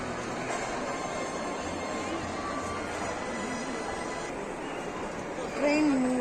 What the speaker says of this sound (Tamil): ட்ரெயின் மூவ் ஆகுது.